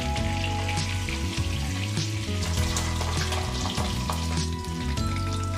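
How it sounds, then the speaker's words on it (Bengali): Eggs frying in hot oil in a pan until light brown for an egg and potato curry, giving a steady, dense sizzle and crackle throughout, close and continuous, with no voices. "হালকা ব্রাউন করে ফ্রাই করে নেব ডিম।"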